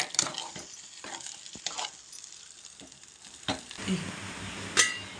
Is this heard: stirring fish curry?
yes